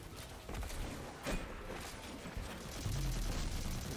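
Video game gunfire from Destiny 2 in a tense firefight, with dense bursts of shots and explosive noise running throughout, growing louder near the end.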